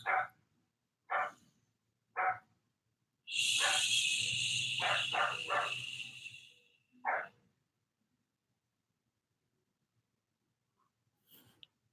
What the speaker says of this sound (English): He's gonna start barking again.